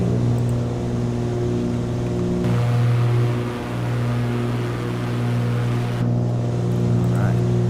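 Twin piston engines and propellers of a Cessna 414A during climb, a loud steady droning hum with a strong low tonal throb filling the cabin throughout.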